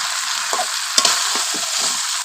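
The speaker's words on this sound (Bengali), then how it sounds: "এই আলুটা দিয়ে একটু নাড়াচাড়া করে" Fried potatoes get stirred in a pan with country chicken, producing several quick scraping strokes over a steady, close bed of sizzling oil, with no talking.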